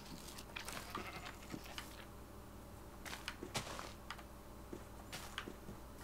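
Sheep bleat in a blocky farming video game, several short calls scattered across the scene over a steady ambient bed, fairly close and moderately loud.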